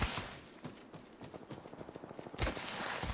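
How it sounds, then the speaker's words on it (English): Rapid bursts of automatic gunfire in the video game Apex Legends, a steady rattle of shots with a louder burst near the end, heard alone without talk. "gunfire."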